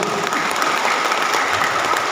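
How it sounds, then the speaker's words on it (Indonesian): Steady audience applause at a community health gathering, a dense wash of many hands clapping close by, continuous and even throughout with no talk over it. "Tepuk tangan untuk Bapak Ibu semua."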